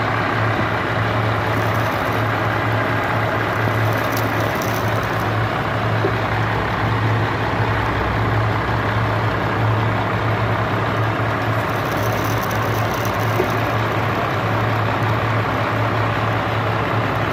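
An Isuzu FVZ28 truck with an overheating fault runs steadily at idle, a loud continuous diesel rumble that holds evenly throughout with no talk.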